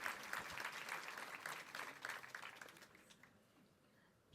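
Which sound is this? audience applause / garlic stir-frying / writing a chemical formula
audience applause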